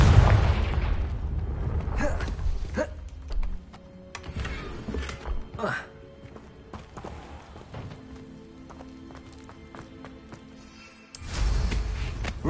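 A blasting spell detonating in Hogwarts Legacy gives a loud explosive burst at the start that fades into scattered thumps and clatter, then a second strong blast near the end.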